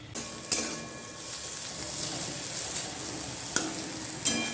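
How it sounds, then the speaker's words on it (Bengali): Gram flour sattu dry-roasting in a pan gives a soft, continuous sizzling hiss, with a few sharp scrapes of a spatula against the pan. "আর ছাতুটাও প্রায় ভাজা হয়ে গেছে"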